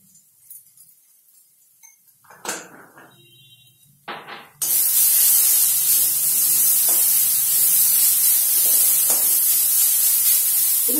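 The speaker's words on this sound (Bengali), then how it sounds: "আমি ভালো করে কষিয়ে নেব" Potatoes seasoned with turmeric and salt hit a hot pan after a few clinks and taps, then a loud, steady sizzle of frying fills the rest, close and continuous with no talking.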